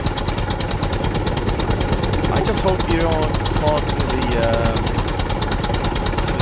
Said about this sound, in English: he was talking about driving a tractor around